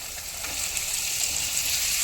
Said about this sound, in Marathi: या भाजीला परतून घेऊया।